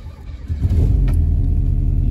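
A car engine catches after a short crank and settles into a steady, close, low idling rumble that holds to the end, with no talking.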